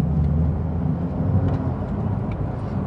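A Porsche 911 992 Carrera S engine accelerates on the road, a steady, loud low rumble heard from inside the car, building gently with no talking.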